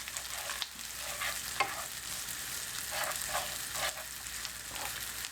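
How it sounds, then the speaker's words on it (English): Curry being stirred in a pan, a steady soft sizzle with scraping spoon strokes recurring every second or so, close and alone. "we stir that for 1 minute"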